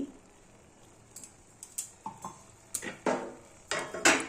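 Dalia pulao with ghee and garam masala being stirred in a pressure cooker pot, with a series of light metallic spoon scrapes and clinks against the pot, close and fairly quiet.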